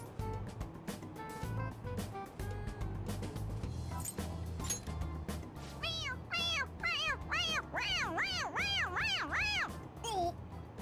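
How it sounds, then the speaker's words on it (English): Squeaky toy cat in Persona 5 Royal gives a string of about eight high, bending meows in a quick rhythm, each one louder than the last, over game music and background noise. "It meows when you press on its head."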